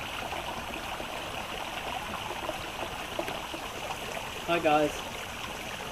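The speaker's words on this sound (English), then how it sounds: "I'm down here at the base of this waterfall, just enjoying the scenery." A waterfall pours steadily at its base, a constant broad rushing wash throughout, briefly joined by a man's greeting near the end.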